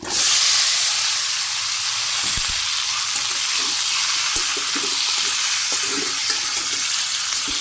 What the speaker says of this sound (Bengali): মাংস আমি কষিয়ে নিই সুন্দর করে